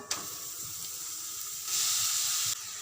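Grated cauliflower with spices sautéing in a pan gives a steady sizzling hiss, growing louder and brighter midway before easing off, with no voices.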